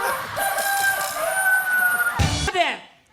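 Chickens clucking and a rooster crowing close by, steady for a few seconds before a short burst of noise and a quick fade.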